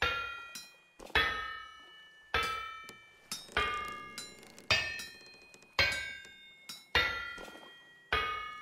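Metal struck on an anvil in the game Vintage Story, a series of sharp ringing hammer blows at a slow, fairly even pace, each clang decaying before the next, close and clear with no talk.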